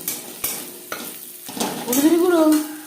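Reddish-fried onions sizzle in a pan with a pinch of turmeric powder, while a spoon scrapes and stirs in several sharp knocks, the frying growing louder and fuller toward the end.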